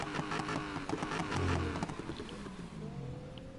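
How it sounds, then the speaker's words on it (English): Car engine sounds from the video game Need for Speed 2015, with revving and shifting engine tones rising and falling at moderate level. "listen to the car sounds."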